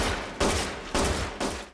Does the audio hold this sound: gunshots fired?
yes